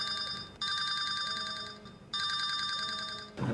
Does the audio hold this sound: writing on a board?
no